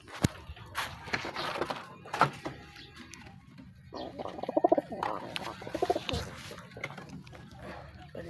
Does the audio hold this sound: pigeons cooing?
yes